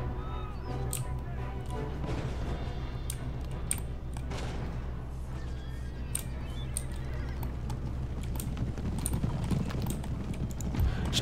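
Cavalry horses galloping through an Empire: Total War battle, a dense, continuous clatter of hooves with occasional whinnies over a constant low battlefield rumble.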